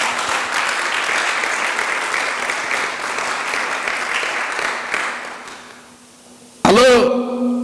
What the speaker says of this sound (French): Que je vous demande aussi d'applaudir pour eux.